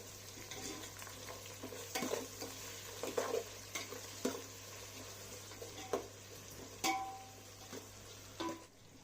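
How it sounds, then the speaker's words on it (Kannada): Onions with cinnamon, cloves and cardamom frying in oil in a pressure cooker for mutton biryani, a faint steady sizzle broken by occasional soft stirring scrapes, quiet and unaccompanied. "ಈರುಳ್ಳಿ ಚೆನ್ನಾಗಿ ಫ್ರೈ ಆಗಬೇಕು, ಬ್ರೌನ್ ಆಗೋ ತನಕ ಚೆನ್ನಾಗಿ ಫ್ರೈ ಮಾಡಬೇಕು"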